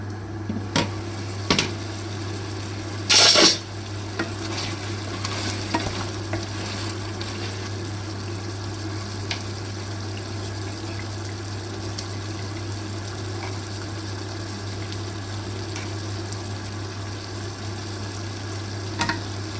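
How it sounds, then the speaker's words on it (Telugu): Chopped tomatoes frying in a pan for Andhra-style chicken pulao, a low steady sizzle with occasional stirring scrapes and one brief sharp clatter early on, close and unbroken by talk. "ఇప్పుడు మనకు కావాల్సిన అన్ని టొమాటోలు, మనం కట్ చేసి పెట్టుకున్న టొమాటోలు వేసుకోవాలి"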